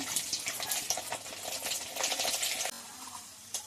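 Garlic frying in hot mustard oil with asafoetida, a close, busy crackling sizzle with stirring, loud and continuous before easing slightly near the end.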